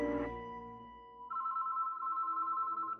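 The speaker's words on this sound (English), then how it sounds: "a phone rang inside of a house pretty far away from the hospital" A telephone rings with a steady, buzzy electronic trill that starts partway through, after a fading musical tone, and continues alone without voices.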